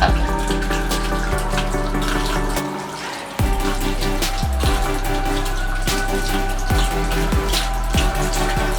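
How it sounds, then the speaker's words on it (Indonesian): Plant roots are rinsed under a running tap, giving a steady, close splashing water flow with a brief dip partway through as the roots are moved under the stream. "Oke, saya cuci akarnya."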